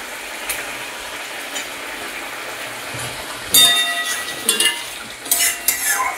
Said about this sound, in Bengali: ঝোল ফুটে গেছে গ্রেভিটা।